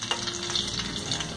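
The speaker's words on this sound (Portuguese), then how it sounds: "Depois de mais 2 minutinhos fritando o outro lado da nossa rabanada" Rabanada, Brazilian French toast, fries in sunflower oil with a dense, steady crackling sizzle, close and constant with no talk.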